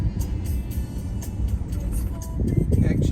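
Van driving along a main road toward Chios town on the Greek island of Chios, a steady low road and engine rumble with tyre noise that swells slightly near the end, no voices.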